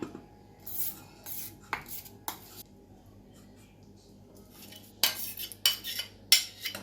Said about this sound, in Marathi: आता आपण या ताटलीमध्ये काढून घेऊया